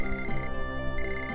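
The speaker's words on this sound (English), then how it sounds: "Hold on, I got a phone." A phone ringtone plays in the SaGa Frontier Remastered video game, a bright repeating melodic ring, fairly loud and steady over background game music, with no talk.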